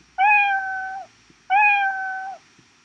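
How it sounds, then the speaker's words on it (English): Two clear, drawn-out cat meows from a Scratch sound block, each about a second long with a short pause between them, close and loud against a quiet background. "Then play sound. Not alarm, meow."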